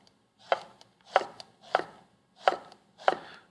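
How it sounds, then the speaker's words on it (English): A knife cuts eggplant into slices about a quarter inch thick. Five crisp, evenly spaced chops land on a board, close and clear, with quiet pauses between them. "what I want to do is cut these eggplant about 1/4 inch thick"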